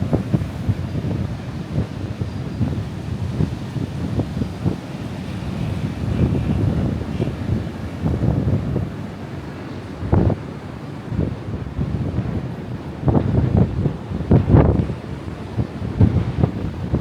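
Strong wind roars across a beach in Fuerteventura with surfers out on the water, a steady broadband rush with louder gusts buffeting the microphone, waves faintly underneath.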